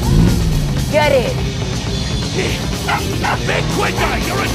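In a scene from the 2021 film Cruella, a dog lets out several quick yips and barks over a noisy background, with people talking at the same time.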